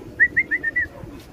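A racing pigeon at its loft gives a quick run of five soft, whistling chirps in close succession, near and fairly clear, over quiet background noise.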